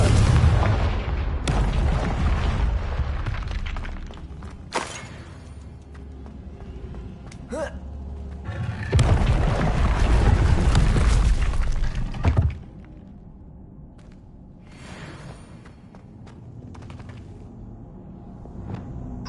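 Explosions from the Confringo blasting spell in the Hogwarts Legacy video game, several loud booming blasts with crashing, shattering debris, the heaviest burst swelling in the middle before fading into rumbling ambience.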